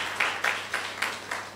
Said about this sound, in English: I think you clap at that point